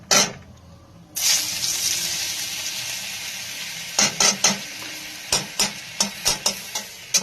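Carrots and onions frying in butter for a creamy white sauce pasta, a sudden loud sizzle rising after a quiet second, then a run of sharp, rhythmic utensil knocks against the pan as it is stirred.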